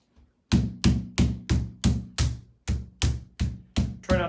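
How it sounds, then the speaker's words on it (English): Mallet tapping the pegs of a three-layer quail cage into place, ten sharp wooden knocks in a steady rhythm, close and alone. "Now once again, use the mallet."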